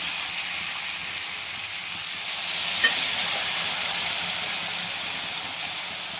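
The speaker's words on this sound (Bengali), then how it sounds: "আলু বেগুনটা ভালোভাবে ভাজা হয়ে গেছে, এবার পেস্ট করা পোস্তটা দিয়ে দিলাম" Poppy seed paste added to fried potato and brinjal in a hot pan brings up a loud, steady frying sizzle and hiss that swells midway and holds, with no talking.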